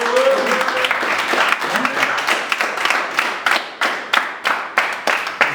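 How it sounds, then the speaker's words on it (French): Audience applause at a French rap clash battle event, dense clapping that thins toward the end into distinct, evenly spaced individual claps, with some crowd noise. "Un maximum d'applaudissements pour vous qui êtes là."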